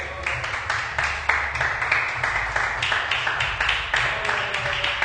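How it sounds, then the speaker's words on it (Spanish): A church congregation applauding for Christ, a dense run of rhythmic hand claps with regular accents, steady and close, with voices faintly underneath. "Dale un aplauso a Cristo."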